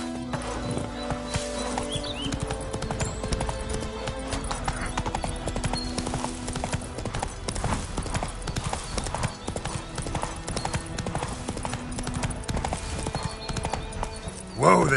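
Hooves of Roach, the horse in The Witcher 3, pound steadily in a fast gallop, loud and continuous under game music and ambience, with a brief louder burst at the end.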